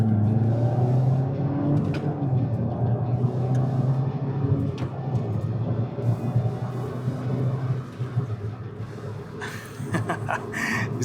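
A Suzuki Swift Sport accelerates on the road, a loud close engine drone with rising revs, wind and road noise throughout and a brief burst of laughter near the end.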